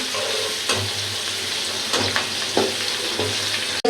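Large prawns sizzle steadily in hot oil in a pan, with occasional stirring scrapes and bursts of crackle close by.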